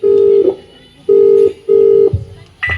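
A telephone call is placed in a farewell party skit: three long, loud, steady tones sound in sequence with short gaps, followed by a click and a softer final tone.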